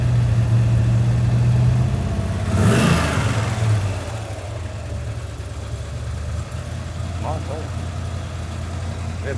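A hot rod's engine idles with a deep, steady rumble, then revs sharply once before settling back to a lower idle. People talk faintly over it near the end.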